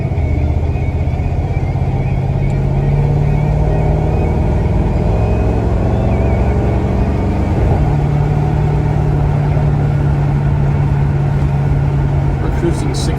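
A 1971 Chevrolet Monte Carlo with a 402 engine cruising at 60 mph, a loud steady low engine rumble and road drone heard from inside the car.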